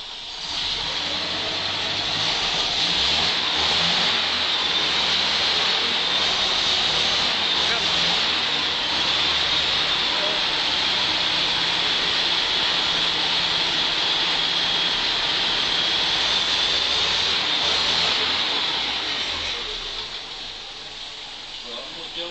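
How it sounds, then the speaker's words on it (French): A small vintage Citroën Rosalie car engine runs steadily throughout, a continuous buzzing drone with a thin high whine on top, easing off slightly toward the end. "Voilà, le moteur il tourne très très bien."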